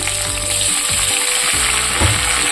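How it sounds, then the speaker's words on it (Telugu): Tomato pieces hit hot oil in a pan for a Telugu coconut-tomato roti pachadi, giving a loud, steady sizzle and crackle with faint stirring scrapes throughout, no voices. "అలాగే టమాటా ముక్కలు కూడా ఇంట్లో వేసేసి"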